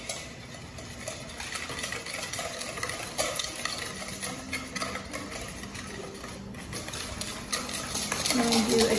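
Halloween baking batter being stirred in a bowl, a continuous scraping, swishing mix with utensil clinks, close and steady, growing a bit louder toward the end.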